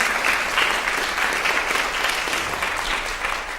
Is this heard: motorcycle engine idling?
no